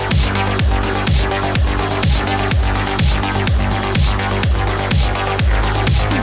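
Post-punk drum beat with a full mix, 80s-style master processing applied, steady driving kick and snare pattern with repeating bass notes, loud and continuous throughout.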